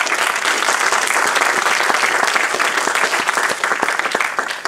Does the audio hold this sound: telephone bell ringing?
no